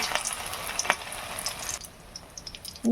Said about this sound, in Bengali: ব্যাটারের মধ্যে দিয়ে ব্যাটারটা গায়ে লাগিয়ে আমি এবার তেলের মধ্যে ছেড়ে দিচ্ছি।